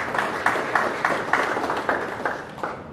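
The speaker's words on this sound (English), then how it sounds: "A better round of applause for our brother Sam Jari" Applause at a Kenyan Muslim awards ceremony in Nairobi, a crowd clapping in a steady, regular rhythm with evenly spaced loud accents throughout.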